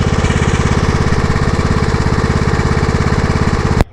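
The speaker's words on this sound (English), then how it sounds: "been mowing about 45 minutes" A riding lawn mower engine chugs loudly and steadily up close while cutting a home's north lawn, its rapid pulsing exhaust rhythm continuous until it cuts off at the end.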